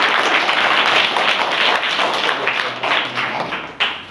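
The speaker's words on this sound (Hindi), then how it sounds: "ताली बजा दीजिए जोर से" Schoolchildren at a government school in a classroom clap hard together, a dense continuous burst of applause that holds steady and thins toward the end, with a sharp slap near the close.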